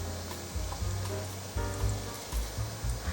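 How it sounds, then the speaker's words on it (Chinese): Sweet potato and carrot pancakes fry in a generous layer of oil over medium-low heat, giving a continuous soft sizzle with small crackling pops throughout. "如果还要再上色一点，等下可以再翻过来，再继续煎。"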